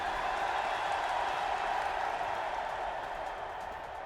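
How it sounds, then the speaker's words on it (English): A distant stadium crowd roaring and cheering in the Pokémon Sword and Shield video game, a steady, faint wash of massed voices and applause that holds level throughout. "you entered the packed stadium with other participants and heard the crowd cheering."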